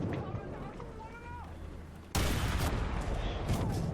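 A tank's gun barrel blows up in War Thunder, a sudden loud blast that cuts in halfway through and leaves a dense roar of battle noise after a quieter, rumbling stretch.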